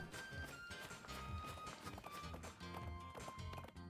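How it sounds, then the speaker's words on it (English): Cartoonish creature footsteps from Pokemon Sword & Shield play as a steady run of soft repeated taps over bouncy game music, fairly loud and continuous with no talking. "whoever did the sound design for the footsteps deserves a promotion"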